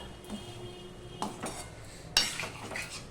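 A utensil scrapes and clinks in a pan while fried fish eggs and potatoes are mixed together, giving a few sharp metallic knocks over a soft background, close and brief, with no speech.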